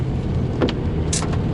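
A car drives along a road in the rain, giving a steady low rumble of engine and road noise from inside the cabin, with a few brief clicks and no talk.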